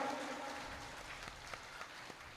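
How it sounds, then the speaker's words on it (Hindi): An audience claps together at a Shri Radharani birth festival in an Agrasen Bhawan hall, a soft, fairly distant wash of applause. "एक बार ताली बजाओ।"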